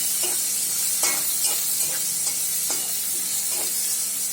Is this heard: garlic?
yes